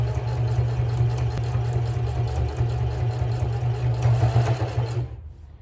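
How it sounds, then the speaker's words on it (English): A sewing machine runs steadily while stitching a beginner's travel bag, its buzzing motor and rapid needle chatter holding for about five seconds before stopping abruptly. "Now again, I'm going to pivot and continue to sew straight down."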